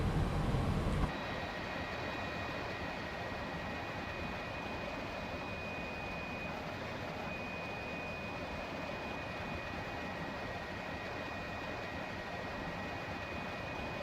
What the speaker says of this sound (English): Engine number 2 starting.